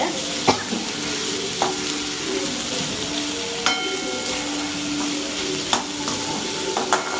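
Turkey pepper masala is stirred in a sizzling pan, with steady frying hiss and intermittent scrapes and clinks of the spoon, close and without talk.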